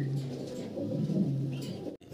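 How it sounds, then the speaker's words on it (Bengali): Racer pigeon chicks calling with soft, low, close cooing murmurs over a couple of seconds, ending in a short sharp knock. "চিচি করে ডাকতেছে এখনো"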